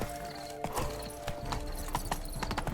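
Horse hooves in a video game, a rapid rhythmic clip-clop of galloping heard near and steady over a dense game soundtrack.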